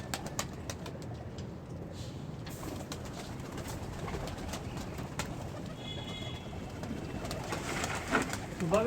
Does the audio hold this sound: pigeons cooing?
yes